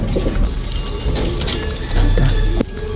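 Pigeons coo in a loft of young birds, soft low throaty calls repeating close by amid background bustle.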